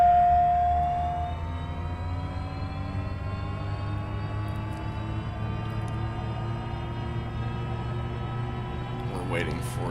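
TBM 900 turboprop engine spooling up during startup in a flight simulator, a steady whine with several rising tones climbing slowly over a low hum, continuous and fairly loud.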